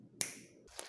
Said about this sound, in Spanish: Un chasquido de dedos y estamos.